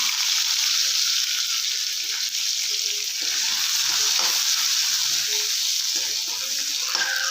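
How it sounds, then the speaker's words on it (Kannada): Cumin, curry leaves and crushed garlic fry in hot oil over mustard seeds in a pan, making a steady, loud, close sizzle that carries through the whole stretch with faint scattered stirring clicks beneath it. "ಇವಾಗ ಸ್ವಲ್ಪ ಕರಿಸೋಣ"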